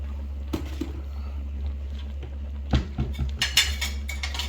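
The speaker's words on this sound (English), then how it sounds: "Let's stir this up a little more" A spoon stirring cheeseburger macaroni in a pan on the stove, sparse scrapes and clinks that turn into a quick cluster of clattering strokes toward the end, over a constant low hum.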